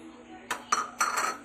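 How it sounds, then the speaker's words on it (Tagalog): A utensil clinks and taps against a bowl while soy sauce and vinegar liquids are stirred together, a few sharp metallic knocks over a quiet room, with a voice briefly present. "Guys, haluin muna natin tong ating mga liquids"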